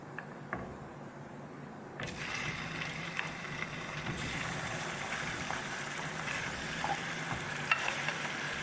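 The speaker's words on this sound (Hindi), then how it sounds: "ऑयल को थोड़ा सा गर्म होने देंगे और ये हम अपना चिकन डाल देंगे" Chicken pieces dropped into hot oil for achari chicken, a steady loud sizzle that jumps sharply in intensity partway through as the frying takes hold, continuing without speech.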